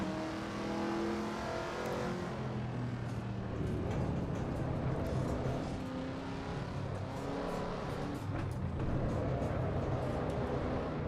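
A race car engine in the Assetto Corsa EVO sim racing game, a continuous revving drone that climbs and drops through gear changes, loud and close for the full stretch with no talk over it.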